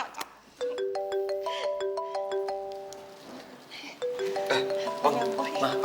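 Mobile phone ringtone playing a bright repeating melody of clear electronic tones in two bursts with a pause between, fairly close, over a faint background hum.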